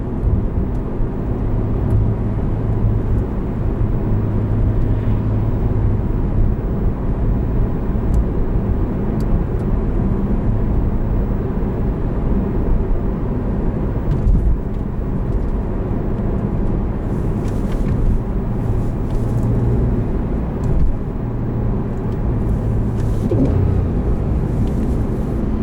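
Engine of a 2014 Porsche 911 Carrera with a manual gearbox drones steadily from inside the cabin, a constant low rumble with small rev-matching blips near the end.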